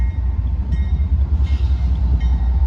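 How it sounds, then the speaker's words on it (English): A CSX westbound freight train rolls past Depew Amtrak Station on a Friday evening, a loud, close, steady rumble of wheels and cars with a continuous low roar and no talk. "we got a CSX westbound train coming down the line."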